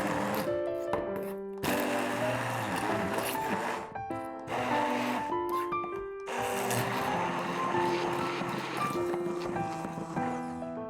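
A blender purees garlic, pistachios, parmesan, salt, pepper and squeezed spinach into a sauce, its motor whining at shifting pitch in pulses with a few brief pauses, loud and close.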